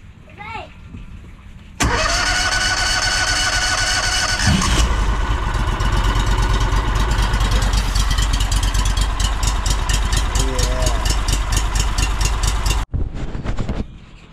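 A gas engine cranks and catches, then settles into a loud, steady idle nearby; voices talk before it starts, and it shuts off abruptly near the end.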